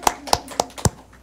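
A few people clap in a legislative committee hearing, giving four distinct sharp claps in a sparse, uneven rhythm rather than full applause.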